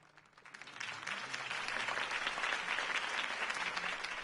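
Crowd applause at a campaign rally in the Batman Telltale Series video game: a broad, steady wash of clapping that swells up within the first second and keeps going at an even level, heard from a moderate distance.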